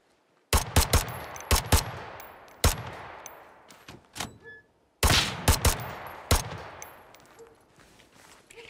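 Pistol gunfire in the tactical shooter Ground Branch, sharp close shots in two quick clusters with echoing tails and gaps of quiet between them.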